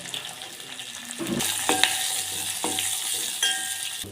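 Mustard seeds and curry leaves in hot oil for a tempering of amla dal: a quiet start, then a sudden burst of bright crackling sizzle with sharp pops, close and sustained.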